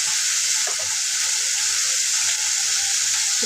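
Ground spices and turmeric frying in oil in a pan, with a loud, continuous sizzle and hiss close by and faint stirring scrapes underneath, with no voices.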